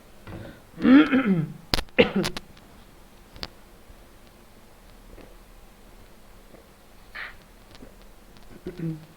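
Someone clears their throat and coughs a few times during a class lecture, short harsh bursts separated by quiet pauses, with a faint cough again near the end.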